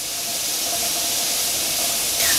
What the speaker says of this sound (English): And you can hear the steam as well as see it.